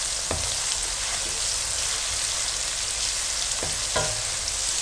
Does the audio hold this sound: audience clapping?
no